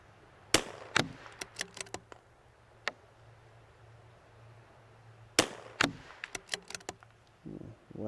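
Two sharp rifle reports from a CZ 457 .22LR precision rifle firing the 6182 ammunition lot, spaced several seconds apart, each followed by faint clicks and clatter of bolt handling at close range.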